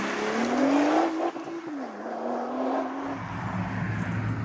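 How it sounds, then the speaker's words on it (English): A Nissan GT-R driven hard on a public road, its engine note loud and close as it climbs through the revs, dips briefly at a shift, then holds a steady drone with wind and tire roar. "I'm in the Nissan GT-R and I'm driving this road pretty much as quickly as I think is sensible given the conditions."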